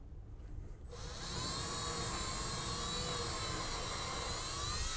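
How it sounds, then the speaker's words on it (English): A clean new 3/16 drill bit bores into a wooden commercial door to start screw holes for a door closer, the drill whining steadily and loudly after spinning up from a quieter start. "we're gonna take a 3/16 bit, a nice clean new one. We're gonna run it in this so that we can just mount or start mounting our cylinder."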